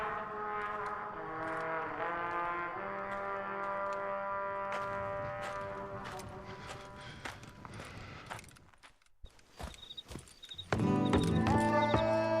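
Hooves clip-clop in Red Dead Redemption: Undead Nightmare, an even trotting rhythm beneath sustained game music that drops away briefly before a louder musical swell, with a horse whinny mixed in.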